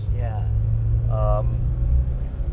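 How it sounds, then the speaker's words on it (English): A Porsche 924 Turbo with a 4-cylinder 2-litre engine drives along, its low steady rumble heard from inside the cabin under conversation between occupants. "It's a 4-cylinder 2-litre engine, and the power is very much on and off."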